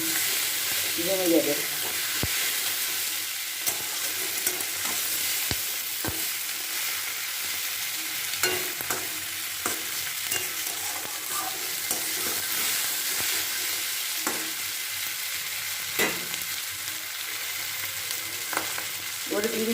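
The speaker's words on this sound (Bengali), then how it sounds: "দিয়ে হালকা করে একটু নাড়াচাড়া করে দিচ্ছি" Onions frying for a Bengali-style egg curry, with a steady loud sizzle and hiss and occasional scraping stirs against the pan. Someone speaks briefly near the start over the frying.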